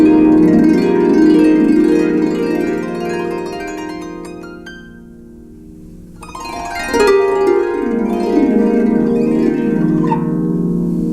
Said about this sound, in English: When I have the D levers up, if I'm just strumming, doing those glisses, or however you want to say it,